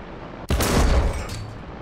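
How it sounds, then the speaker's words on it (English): A tank gun fires in the War Thunder video game, one sudden loud blast that rolls out into a rumbling, fading tail, close and alone. "This gun really does shoot all over the place, man."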